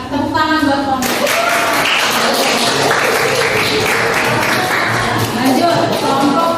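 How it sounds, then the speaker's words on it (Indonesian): Classroom applause for a student group after their presentation, dense steady clapping from many hands filling the room for several seconds, with a few voices underneath. "tepuk tangan buat kelompok"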